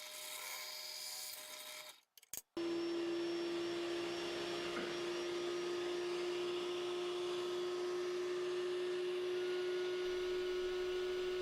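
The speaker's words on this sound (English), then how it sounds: "Here I'm just drilling some holes for the mounting plate" A power drill whirs with a steady high motor whine, drilling holes for a mounting plate, running continuously after a short pause near the start.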